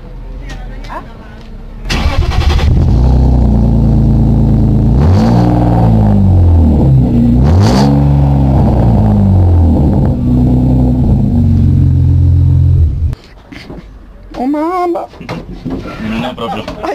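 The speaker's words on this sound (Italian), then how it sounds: "così sentiamo il rombo anche di quest'auto" Vintage car at a classic car show starting up and revving, the engine catching and then swelling through several loud rising and falling revs close by before cutting off, with voices talking before and after.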